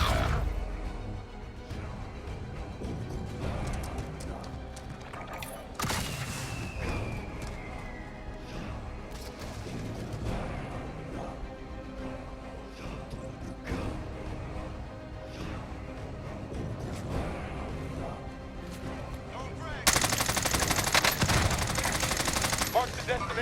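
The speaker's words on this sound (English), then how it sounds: "We're taking fire." Gunfire from the video game Warzone rattles in bursts and single shots amid a busy battlefield mix, fairly loud and ongoing, with voices talking over it.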